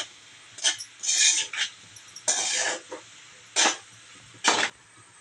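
A spoon scrapes and rustles through a dry puffed rice mixture as chicken masala is stirred in, several short gritty bursts with quiet gaps, close by.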